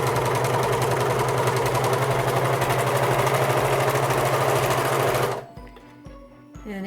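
A serger stitching along a fabric edge to gather it, a fast steady mechanical whir and chatter, close and continuous, that stops abruptly near the end, leaving faint handling noises.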